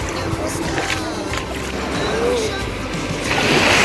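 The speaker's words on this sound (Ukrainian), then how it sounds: "Невеличка хвилька сюди йде." A small wave washes ashore on a Black Sea beach in Odesa, a steady broadband swash that builds toward the end, with a voice speaking over it.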